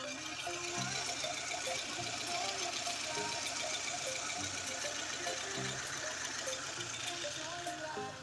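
A car engine runs steadily with a constant hum and faint rhythmic ticking, heard up close without pauses.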